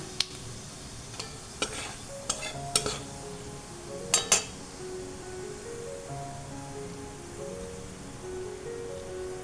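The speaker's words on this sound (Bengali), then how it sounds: "এবারে ফোড়নটা দিচ্ছি জিরে জিরে ফোড়ন দিলাম" Cumin seeds sizzling in hot oil for a tempering, a soft steady hiss with several sharp crackling pops and a few metallic clinks of a utensil against the pan.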